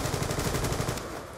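Rapid automatic gunfire from the video game Black Ops 2, a dense, loud burst of pulsing shots for about a second that then drops away into quieter game noise.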